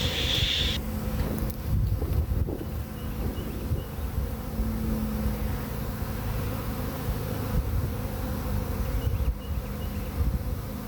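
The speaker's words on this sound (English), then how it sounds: "those bees are, see how they're fanning the pheromones" A swarm of honeybees drones around a hive box, the dense buzzing steady and close for the whole stretch with faint wind noise under it.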